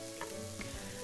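A slice of toast sizzles and crisps as it cooks in the video game I Am Bread. The frying hiss is steady and faint, with a couple of small pops and no voices.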